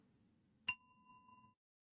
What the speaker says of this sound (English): listening to the bell